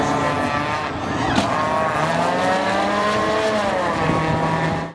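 A smart car drives at speed on the road, its engine and tire noise a steady, loud drone with rising and falling tones, heard up close from inside with no talking.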